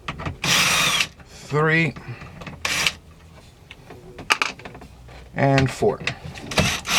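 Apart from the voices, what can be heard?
removing 7mm screws from Ford F250 radio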